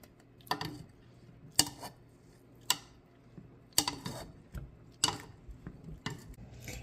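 Soft cooked strawberries are mashed in a pot with a potato masher, about seven separate wet squelching presses with clinks against the pot, spaced irregularly and fairly quiet, with no talk.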